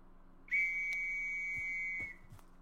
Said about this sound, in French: votre officier va prendre le sifflet